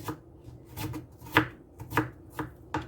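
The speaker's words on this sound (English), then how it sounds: "I just diced them up into small bits" Onions being diced into small bits with a knife on a cutting board: quick, uneven knife chops land close by, about six sharp thuds in under three seconds, with no voice.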